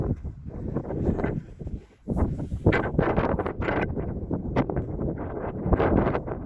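Gusty wind at Cape D'Aguilar Marine Reserve, Hong Kong, buffets the microphone in loud, rumbling blasts that rise and fall, with a brief lull partway through.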